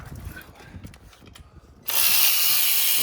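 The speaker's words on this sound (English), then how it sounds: "We're taking the valve cover bolts off." A ratchet clicks quickly on valve cover bolts of a Jeep TJ 4.0 engine, then a louder steady whirring mechanical sound takes over for the final second.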